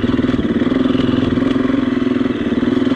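A KTM EXC-F 350 dirt bike engine runs steadily and loudly up close, a rapid even throb sustained with only slight variation and no clear rise in revs.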